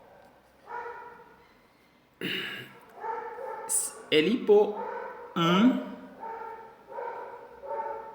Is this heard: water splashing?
no